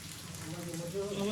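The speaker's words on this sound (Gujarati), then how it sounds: "વરસાદ ફૂલ ચાલુ છે" Steady rain falling in a heavy downpour, a soft continuous patter heard faintly over a short moment while a voice rises beneath it.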